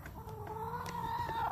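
A chicken clucks in a backyard garden among onion plants, a short run of soft, repeated clucks over a steady background hum, with no talking.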